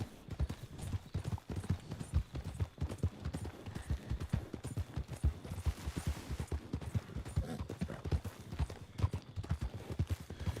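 Rapid clip-clop of horse hooves at a steady gallop in Red Dead Redemption 2, dense rhythmic thuds continuing throughout, fairly quiet and close.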